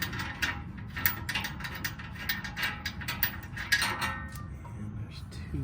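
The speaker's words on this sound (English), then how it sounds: "Let's see the skid plate lowering as I unthread the bolts." A hand ratchet unthreads the engine skid plate bolts on a 2022 Ford Bronco, a fast run of close metallic clicks repeating throughout under low mechanical background noise.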